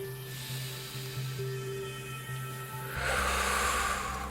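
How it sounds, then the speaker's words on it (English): Deep breathing during an active yoga workout, a soft, slow exhale hissing up close over a low, steady background hum. "Last big breath."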